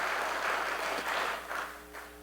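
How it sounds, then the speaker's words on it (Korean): A Korean church congregation at an afternoon praise service gives brief applause of encouragement for the pastor's wife, a soft, even patter of many hands that swells slightly and then eases off. "박수로 한번 격려해 주시기 바랍니다"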